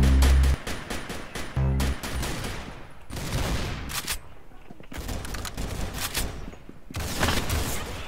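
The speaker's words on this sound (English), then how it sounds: "That was a sniper rifle." Rapid gunfire in the Roblox game Arsenal, including a sniper rifle, with bursts of sharp shots in quick clusters and a few separated cracks, fairly loud and close throughout.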